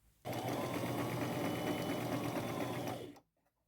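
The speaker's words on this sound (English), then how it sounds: "And then when I get all that sewn, I'm going to go across the top and sew that down as well." A sewing machine stitches a thrifted scarf in one continuous, loud, steady whirring burst of about three seconds, starting and stopping abruptly.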